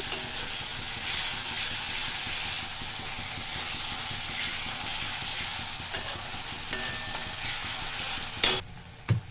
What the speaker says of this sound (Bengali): আদা রসুনটা দিয়ে একটু তেল ছাড়া পর্যন্ত অপেক্ষা করবো, নাড়তে নাড়তে